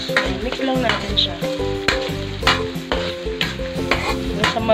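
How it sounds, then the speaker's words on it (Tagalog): Onions are stirred into garlic frying in a pan for tinola, a loud close sizzle with repeated rhythmic scraping strokes of a utensil, no voices over it. "We can put the onions. Mix lang natin siya."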